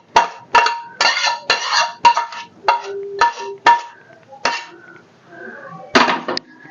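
A spoon clanks and scrapes against a pan while dink ladoo mixture is stirred with melted jaggery, a quick run of close metallic knocks and clinks in irregular bursts with brief pauses.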